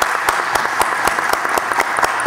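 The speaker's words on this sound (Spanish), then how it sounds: "quería pedir un aplauso para el señor Carlos Llerena, que hoy día es su cumpleaños también" People at a citizen security committee meeting clap for a colleague's birthday, a short burst of brisk, close applause with distinct rhythmic claps standing out over the dense patter.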